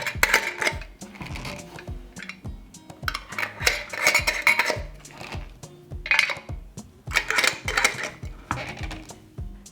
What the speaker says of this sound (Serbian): Pripremila sam šerpu i na dno stavljam krpu u kojoj ćemo kuvati tegle i unutra stavljam i tegle.